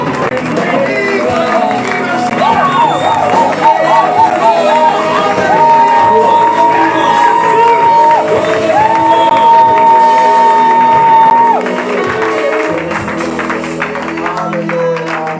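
A church congregation at a Sunday worship service cheers and shouts acclamations, a loud continuous mix of whoops, voices and clapping with rising sung or shouted tones layered through the crowd noise.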